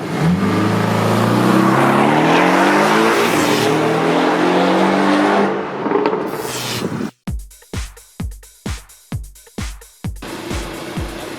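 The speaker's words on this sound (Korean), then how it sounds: "저희는 지금 포르쉐 718 박스터를 만나고 있습니다." Porsche 718 Boxster with a turbocharged engine, loud close engine drone rising and falling as the car drives, then a sharp series of rapid revving bursts with pauses between them.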